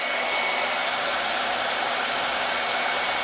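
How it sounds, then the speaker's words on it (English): A handheld blow dryer runs on a warm setting, a loud, steady, close whoosh of airflow with an even motor hiss throughout and no voices. "take a blow dryer and turn it on"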